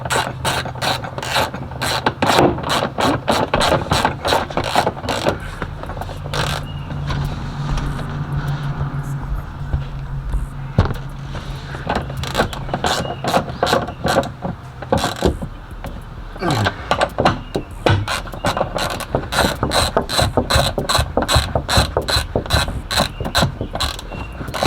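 A ratchet clicks rapidly in uneven runs while tightening down 4x10 rear deck speakers inside a Cutlass, sharp close-up ticks with brief pauses and some faint creaks between bursts.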